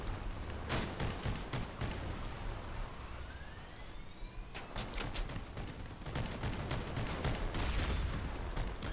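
Gunfire from a vehicle being driven in the video game Crossout, repeated sharp bursts over a steady engine drone, with a quieter stretch in the middle before the shooting picks up again.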